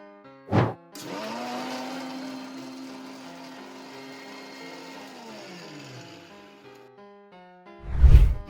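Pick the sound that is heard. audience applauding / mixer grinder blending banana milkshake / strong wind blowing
mixer grinder blending banana milkshake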